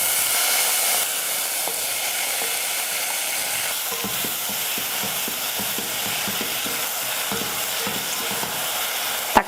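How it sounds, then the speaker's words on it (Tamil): Tomatoes sautéing in a pan while rasam is being prepared, giving a steady sizzling hiss with a few faint stirring clicks throughout, close and moderately loud with no talk. "தக்காளி இதில் சேர்த்துக்கிறேன்."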